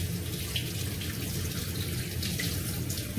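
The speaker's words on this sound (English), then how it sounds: "I'm going to wash my beefy hands for a moment." Hands being washed under a running kitchen tap after cutting beef, a steady broadband rush of water lasting throughout, close and fairly loud with no talk.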